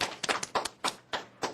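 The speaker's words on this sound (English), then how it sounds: "Give him a clap" Schoolchildren give a classmate a short round of applause during a maths lesson, a few scattered, uneven claps, fairly soft and close, with no voices over them.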